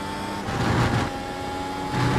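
Race car engine lapping Mugello in iRacing, a steady droning whine with tonal harmonics that swells slightly in places, continuous and fairly close.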